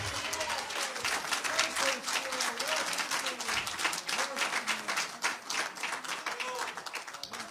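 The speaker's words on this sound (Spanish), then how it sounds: "¿Cuántos dan un aplauso fuerte a Dios en este día?" A church congregation applauds with steady, full clapping from many hands while a voice is heard beneath the sound of the crowd.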